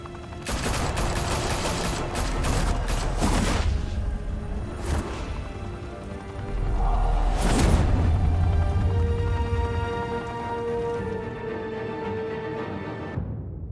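Gunfire in the Telltale Batman video game: loud, rapid automatic bursts in clustered volleys, pausing and resuming, with whooshing impacts and a lingering hum as the firing stops.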